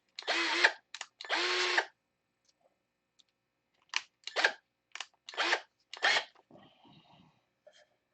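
Power drill fitted with a 1/8 inch bit boring a hole for a blind nut flange in a cowl mounting, several short bursts of whirring with pauses between, close and fairly loud, followed by faint clicks and handling noise.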